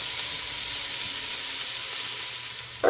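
Onions with serrano peppers and salt frying in a pan give a steady, close sizzle and hiss that continues without pause, with a small clatter at the end.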